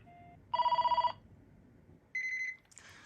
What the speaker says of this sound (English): So now I'm going to ring this up with the handset off the bass.